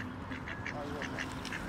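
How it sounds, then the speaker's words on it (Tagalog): A duck at a farm zoo quacks in a quick series of short, nasal calls at moderate distance, with faint background murmur. "Duck na yan, duck."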